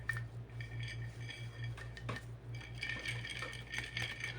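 Wood chips of incense being stirred with perfume in a dish give faint, scattered clicks and light scraping over a steady low hum, with no voices.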